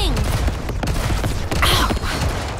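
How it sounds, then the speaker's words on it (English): Dense gunfire from the mobile shooter game Goddess of Victory: Nikke, a continuous loud barrage of rapid shots with game effects and character voices mixed in throughout. "Shooting!"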